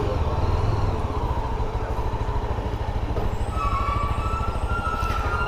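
A Yezdi Adventure motorcycle engine thumps steadily at a low, even rhythm, close and continuous, with a faint whine rising near the end as it pulls away.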